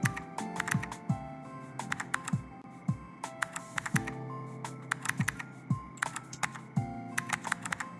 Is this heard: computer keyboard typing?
yes